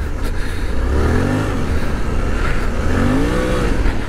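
A Suzuki V-Strom 800DE adventure motorcycle engine pulls hard in second gear while riding, its rising growl rolling up and down under constant loud wind rush.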